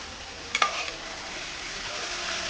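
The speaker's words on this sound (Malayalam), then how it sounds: "നല്ലതുപോലെ ഇളക്കണം" A prawn roast mixture is stirred in a hot pan. A soft, steady sizzle runs under a couple of quick spoon scrapes near the start, and there is no talking.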